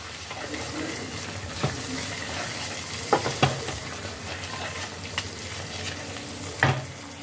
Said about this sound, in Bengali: ঘি দিয়ে এটাকে আরেকবার একটু ভালো করে মিশিয়ে দিলাম